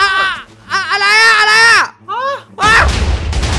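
TNT blocks exploding in Minecraft, a loud broadband blast bursting in near the end after excited, high-pitched voices shouting.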